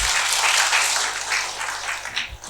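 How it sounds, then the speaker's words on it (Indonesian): Applause from an audience at a health seminar on stress-related illness, a dense continuous patter of many hands clapping that swells briefly and then tapers slightly. "Tepuk tangan, tepuk tangan."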